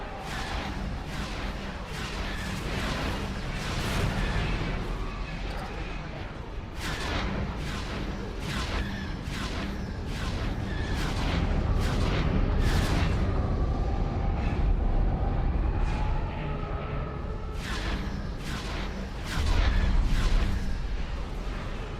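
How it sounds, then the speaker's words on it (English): Torpedoes fire and strike in a Star Wars space game, a continuous loud barrage of repeated booms and sharp blasts over a roaring low rumble. "There's those torpedoes."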